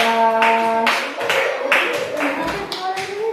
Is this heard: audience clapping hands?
yes